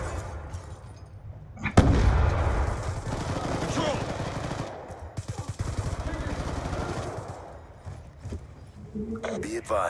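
Rifle fire in Black Ops 2 on Plutonium, with rapid bursts of shots and loud blasts mixed with game sounds, while a player talks over much of it.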